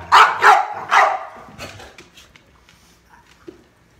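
A pitbull and a valley bulldog barking indoors, three loud close barks in quick succession followed by softer scattered yips and rustling as the noise dies down.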